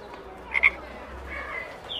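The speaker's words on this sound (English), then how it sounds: "Look, Ben, a bright green frog." A bright green frog in a zoo gives a short pair of chirping croaks over a quiet background hum.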